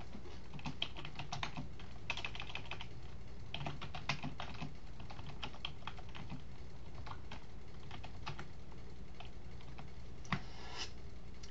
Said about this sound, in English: You can keep your hands on the keyboard and keep on typing.